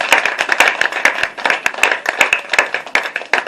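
A church congregation at a Sunday worship service claps together loudly and steadily in fast, dense, slightly uneven rhythm, close up, with no voices standing out.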